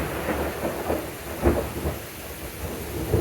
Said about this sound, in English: A little bit of lightning.